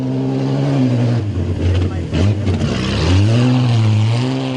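A Datsun 260Z rally car labours through deep ruts, its engine droning and revving in rising and falling pitch sweeps, loud and close with no other sounds over it.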